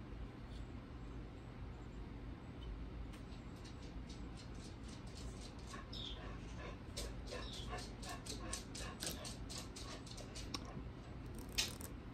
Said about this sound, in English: My dog's all excited.